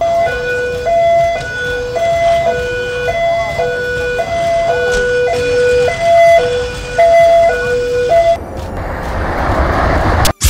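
A loud two-tone emergency siren wails back and forth in a steady, repeating rhythm, then gives way to a burst of rushing noise at the end.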